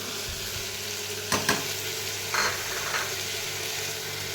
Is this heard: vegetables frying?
yes